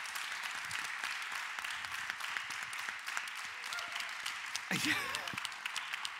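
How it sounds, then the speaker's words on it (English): An audience at an evening talk gives a round of applause, a soft continuous patter of clapping with a voice briefly speaking over it. "So give yourselves, all of you, a round of applause"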